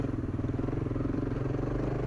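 A rally motorcycle on a Moroccan rally course, its engine thrumming with a steady pulsing beat and rough mechanical clatter, close and continuous, with no talk.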